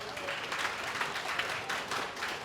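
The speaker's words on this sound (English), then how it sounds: "let's give that a round of applause as well as we can." A crowd applauds steadily, dense clapping at even loudness from start to finish with no voices standing out.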